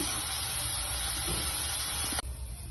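Tomato and ridge gourd peel frying in hot oil in a pan, a steady close hiss of sizzling and spitting that holds evenly before easing off sharply near the end.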